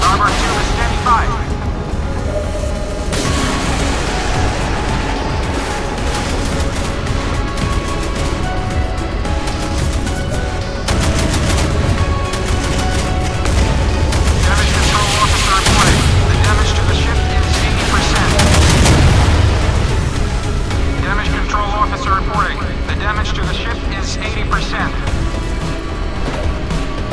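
Rocket launcher aboard a warship in World of Warships firing at an incoming torpedo, a series of heavy booming launches and blasts over steady engine and sea rumble, with voices talking throughout.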